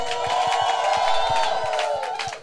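An audience at a gospel event cheers and shouts loudly and steadily for a few seconds, with low, regular thumps pulsing underneath.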